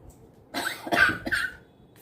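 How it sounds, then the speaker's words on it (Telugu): A few hoarse coughs from someone with a cold, close by in quick succession, with quiet room tone before and after. "మధ్య మధ్యలో దగ్గు వస్తుంది"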